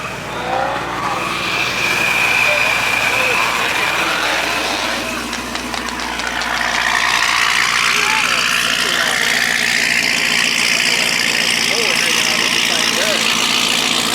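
A loud race car on slick tires at a car show roars with a raw, revving engine close by, steady and powerful throughout, while people talk nearby.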